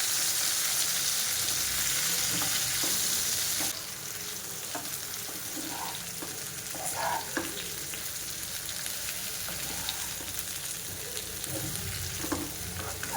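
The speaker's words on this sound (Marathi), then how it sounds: "अशा प्रकारे उलटपुलट करून आपल्याला चांगल्या प्रकारे फ्राय करून घ्यायचे आहे" Sliced bitter gourd sizzles in a pan as it is stirred and tossed. The frying hiss stays steady and close, with scattered scrapes and clinks of the spatula, and the sound changes partway through.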